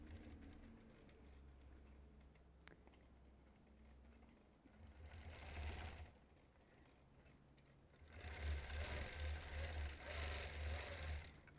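A long-arm quilting machine stitches dark fabric during custom quilting, its low motor hum running in two louder bursts separated by quieter stretches, with no talking.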